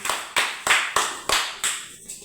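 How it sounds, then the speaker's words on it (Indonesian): A class of students clap hands together in rhythmic unison, seven sharp group claps spaced evenly about a third of a second apart, close and loud with no talking. "Oke, tepuk tangan."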